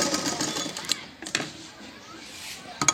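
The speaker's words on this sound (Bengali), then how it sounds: "আমি আর একটা সেলাই দিয়ে নিচ্ছি" A sewing machine stitches fabric in short, quiet bursts of rapid mechanical chatter separated by pauses, close by, with low household background.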